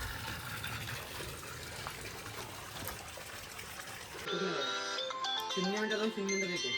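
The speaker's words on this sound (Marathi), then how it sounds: "हे बायकोचा फोन आहे" A mobile phone rings with a tonal melodic ringtone in the second half, loud and close, after a stretch of trickling spring water and outdoor noise.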